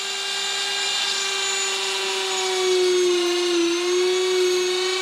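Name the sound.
drill boring a hole, running at 32,000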